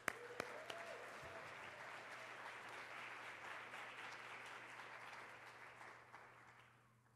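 Audience applause in a hall as speakers are welcomed onto a stage in Atlanta, a steady wash of many hands clapping with a few sharp claps at the start, fading out toward the end.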